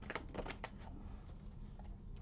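Soft, quick riffling and flicking of tarot cards being shuffled and drawn, a brief burst of papery snaps up close at low volume, then quieter slides.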